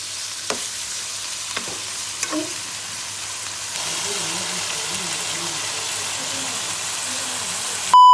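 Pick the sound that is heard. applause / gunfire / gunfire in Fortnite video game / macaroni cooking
macaroni cooking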